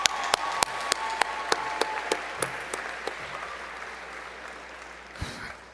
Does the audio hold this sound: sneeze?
no